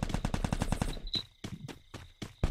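Rapid automatic gunfire from a shooting video game, a dense burst of shots followed by several spaced, loud single or short bursts with a brief ringing tone between them, no talk over it.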